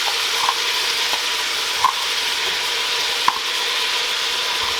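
Chopped carrots and onion hit a hot pot for cheeseburger soup, giving a steady sizzle and frying hiss with a few soft stirring clinks, close and continuous without talk.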